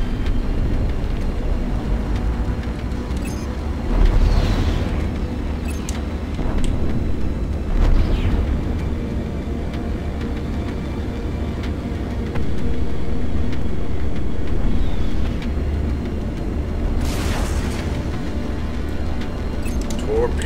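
Rumbling blasts and deep roar of torpedo explosions in the space combat game Strike Suit Zero, heavy low booms over continuous engine drone with a voice talking over them.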